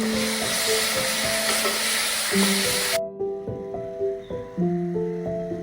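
Ground tom yum paste sizzles loudly as it is stirred in a pan for Thai seafood soup. After about three seconds the frying drops away and is replaced by soft melodic background music.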